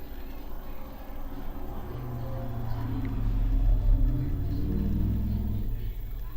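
A UDI RC UCX2405PRO RC car motor on a bench test, spinning at low, steady throttle with a smooth hum and rising whine, fairly close.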